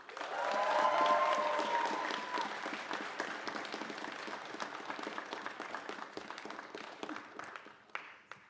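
Audience applauding an award recipient at a university prize ceremony, clapping swelling with a few cheers at first, then thinning gradually toward scattered claps.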